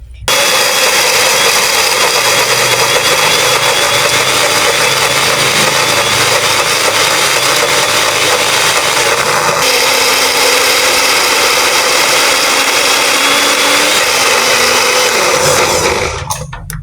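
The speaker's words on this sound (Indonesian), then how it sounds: "Ntar ini kita blender semua kecuali serai sama lengkuasnya ya." An electric blender grinds spices, candlenuts and fried peanuts for coto Makassar with a loud, steady whir lasting about sixteen seconds. Its pitch shifts partway through before the motor winds down and stops at the end.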